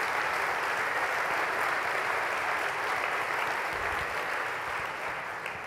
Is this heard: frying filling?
no